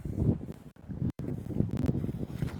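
Gusty wind buffets a Hollyland LARK M1 wireless microphone outdoors on a hilltop walk on a windy day, a steady low rumbling roar with brief dropouts.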